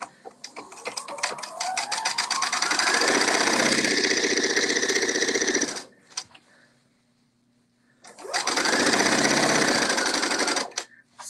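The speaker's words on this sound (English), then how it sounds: "So I'm sewing my underarm seam" A sewing machine stitches the underarm seam of a novelty kimono, whirring loudly in a long run that speeds up, then a short pause and a second burst of stitching.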